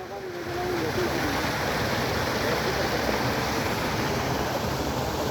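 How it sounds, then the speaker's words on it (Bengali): Water pours over a waterfall at a picnic spot, a loud, steady broadband rush that holds evenly without a break after a brief faint voice at the very start. "এই যে দেখেন ঝর্ণা"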